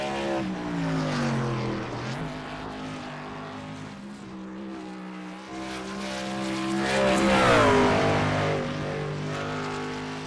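A race truck engine in a racing video game revs on and off the throttle at Motegi, its harmonic drone rising and dipping with loud, sustained presence and no voices.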